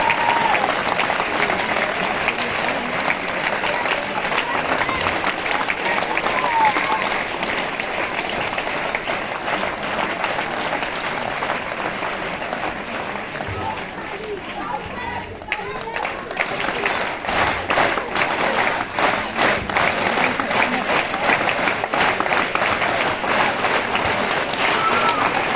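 Steady, dense applause from a school audience for young girls performing on stage at a government co-ed senior secondary school function, sustained throughout with crowd noise mixed in.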